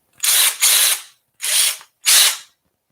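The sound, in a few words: power drill running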